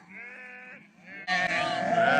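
Sheep and lambs bleat close up, a wavering call followed by a louder burst of overlapping bleats, in a flock of ewes with lambs.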